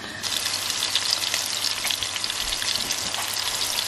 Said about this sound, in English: we've started the bacon